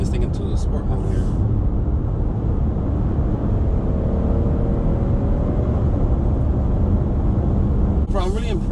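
Interior drone of a 2021 Toyota Highlander XSE with its 3.5-liter V6 and 8-speed automatic in sport mode, a steady broadband engine and road roar holding level throughout, with a faint rising whine in the middle and brief voices at start and end.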